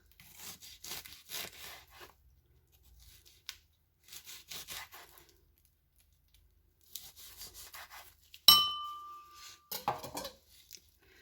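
Knife slicing an onion into thin rings on a board, bursts of crisp rhythmic cutting separated by pauses, close and quiet, then a clattering knock near the end.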